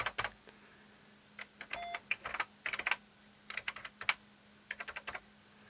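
Keys clatter on an Amstrad CPC 464 computer keyboard in irregular bursts of quick taps and pauses, close and clear over a faint steady hum.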